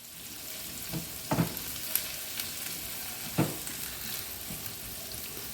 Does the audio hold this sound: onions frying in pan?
yes